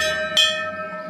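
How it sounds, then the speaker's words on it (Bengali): One strike of a temple bell at a Kali temple near Bolpur, Shantiniketan rings out with a bright metallic clang and a long sustained tonal hum decaying throughout. "একটু ঘন্টাটা বাজাই।"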